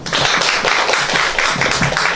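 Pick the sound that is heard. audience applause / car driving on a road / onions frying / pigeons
audience applause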